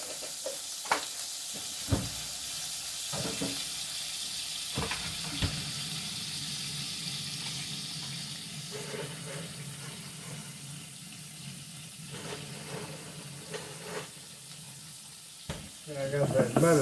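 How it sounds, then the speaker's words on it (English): Butter frying in a pan while it browns, giving a steady soft sizzle with scattered clinks and kitchen handling noises; fairly quiet, and it swells louder near the end. "I got that butter just kind of frying there in that pan, getting into kind of a brown butter"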